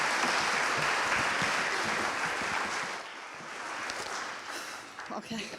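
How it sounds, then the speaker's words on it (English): An audience at a memorial gathering claps and cheers loudly and steadily. The applause dense and sustained for about three seconds, then it thins and fades to scattered claps. "Please give a huge cheer for Susan."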